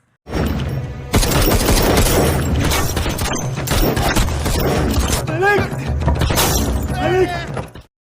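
Dense, loud gunfire from a police gunfight in an Indian action film, with overlapping bursts running nearly nonstop for about seven seconds amid crashes and a couple of brief shouted voices.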